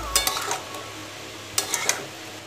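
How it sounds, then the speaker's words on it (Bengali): Utensil scraping and clinking in a pan while curry is stirred and fried down, with a few sharp metallic knocks in two brief clusters over faint background hiss. "এবার আমি ভালো করে মিশিয়ে নেব আর একটু কষতে দেব কিছুক্ষণ"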